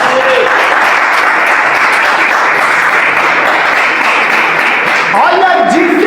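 A church congregation claps for Jesus during a Portuguese-language sermon, with steady dense applause filling the whole stretch and a voice briefly rising over it near the end.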